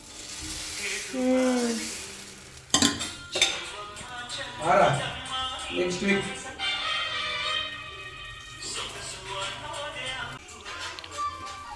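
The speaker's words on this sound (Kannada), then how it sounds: "ಇದ ಬೆಣ್ಣೆನ ದೋಸೆಗೆ ಹಚ್ಚಿ ದೋಸೆ ಮಾಡ್ತಾಯಿದ್ದಾರೆ" Davanagere butter dosa cooks on a hot pan in a home kitchen, spread with butter churned from cream; a soft sizzle runs under clattering utensils, clinking metal, and people talking nearby.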